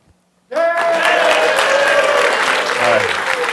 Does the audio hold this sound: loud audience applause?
yes